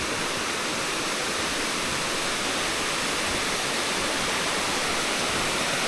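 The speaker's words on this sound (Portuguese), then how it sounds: "Essa queda d'água." A waterfall on a river at Garden Park in Gramado gives off a steady, loud, full rushing roar of falling water that stays unbroken throughout, with no voices.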